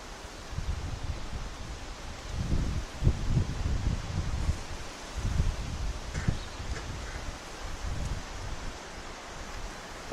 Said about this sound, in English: it's so windy today that we had to relocate here behind the building